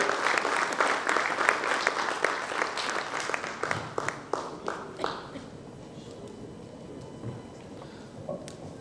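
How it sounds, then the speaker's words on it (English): An audience claps loudly for several seconds, then the applause thins out into a few scattered claps and quiet room noise. "I would like to invite, with a round of applause, Dr. Rajendra Nath sir on the center stage"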